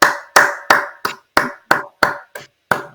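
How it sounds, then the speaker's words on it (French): About nine sharp hand claps, close and distinct at a slow, slightly uneven pace with brief silences between, during an interview before a rap battle. "je vous applaudis"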